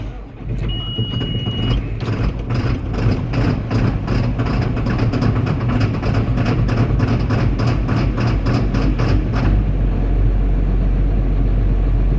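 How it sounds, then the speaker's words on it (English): A John Deere 4960 tractor cold-starting on a chilly morning around 40 degrees after a 30-degree night, a heavy diesel that cranks with a rapid pulsing rhythm, then catches and settles into a loud, deep, steady idle close by. "So this is a 4960 cold start right here."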